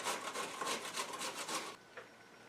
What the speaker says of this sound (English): you just want to grate it on the big grate on your grater.